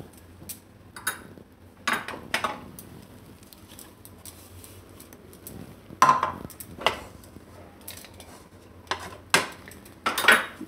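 A spoon stirring milk powder into a bowl for a Gujarati kaju anjeer roll sweet, with irregular clinks and scrapes against the bowl, close by and fairly quiet, with no talk.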